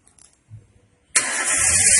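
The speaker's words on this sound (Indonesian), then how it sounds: "Kemudian kita hidupkan mesin kurang lebih 1-2 menit dengan RPM 2000 RPM." A car engine started for an exhaust emission test: faint cranking clicks, then the engine catches abruptly and settles into a loud, steady, close idle.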